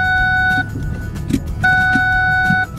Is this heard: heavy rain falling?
no